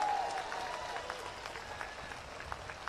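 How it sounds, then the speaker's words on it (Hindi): Dense, loud crowd applause fills a political rally in Makrana, Rajasthan, a steady broadband roar of many hands that holds for the full three seconds, with faint voices mixed in. "सुनीता जी के लिए ताली बजाओ जोर से एक बार।"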